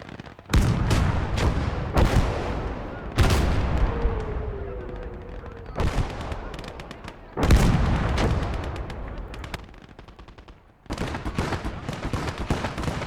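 Heavy artillery fire in the WWII strategy game Gates of Hell: Ostfront, with deep booming blasts repeating at irregular intervals, each trailing off in a rumbling decay, loud and near, with brief talk between the explosions.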